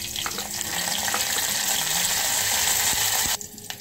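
Curry leaves and small chillies sizzling in hot oil for aamsul kadhi, a loud, dense crackling sizzle that runs unbroken for a few seconds and then cuts away sharply.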